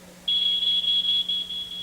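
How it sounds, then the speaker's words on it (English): A smoke detector alarm goes off after a short pause: one loud, piercing, continuous electronic tone that holds steady with slight flutter until the end, with no talking. "They reach 4 feet before the smoke detector goes off,"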